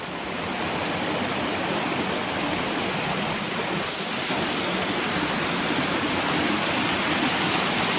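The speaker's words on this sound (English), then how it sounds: "Back there, which is a little waterfall, look." A small waterfall rushing out from under a road near Ashgill: a steady, close, full roar of falling water that stays even throughout, with no voices over it.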